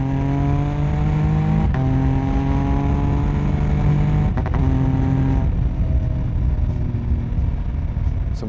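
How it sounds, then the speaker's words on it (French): An MV Agusta Enduro Veloce motorcycle engine revs hard, its rising tone broken by quick-shifter gear changes with small pops and crackles. The engine stays close and loud throughout. "c'est rythmé par le passage de vitesse au quick shifter avec des petites détonations qui donnent vraiment envie de mettre les gaz"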